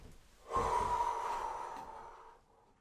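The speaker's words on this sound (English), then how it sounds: "Pay attention to the slower, steady rhythm of the breathing." A climber breathing on a long sport route, one slow, steady breath sounding close and soft, swelling and then fading out gradually.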